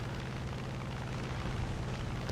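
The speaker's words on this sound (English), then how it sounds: "I might be able to drop some ordnance onto these tanks down here." Bombs dropped from a crippled plane explode on tanks in War Thunder realistic battles, a loud continuous rumbling blast with a low roar holding steady throughout and a sharper burst near the end.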